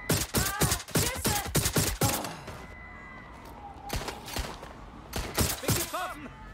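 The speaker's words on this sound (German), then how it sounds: "Schüsse!" Rapid bursts of gunfire from the video game Watch Dogs: Legion, loud sharp shots in quick volleys at the start, then a pause and further scattered shots near the end.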